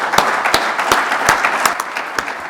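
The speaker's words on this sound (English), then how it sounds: "Let's give a big hand of applause to Mr. Rane." Steady applause from a crowd, a dense wash of clapping with a few sharper individual claps standing out throughout.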